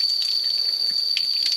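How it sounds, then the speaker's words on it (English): A cascading waterfall in Phu Foi Lom National Park, Thailand, gives a close, steady rush of splashing water with a bright hiss, briefly and without pause. "There's the cascading waterfall."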